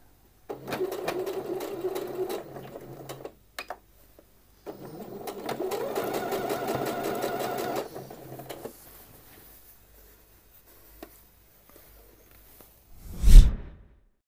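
A sewing machine stitches the hem of a men's shirt in two close, steady runs separated by a brief pause, then falls quiet before a short swish of fabric.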